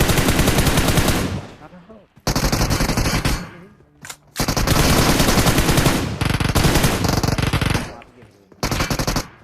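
Automatic gunfire in a mobile shooter game, loud rapid bursts separated by brief gaps, close and dense, several long strings of fire cutting off abruptly.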